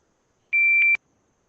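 A shot timer gives a single loud electronic start beep, one steady high tone of about half a second, clean and close with no talk around it.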